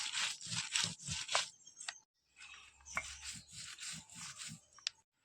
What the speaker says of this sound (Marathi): आधी असे सुके हे मिरचे वाटून घेऊ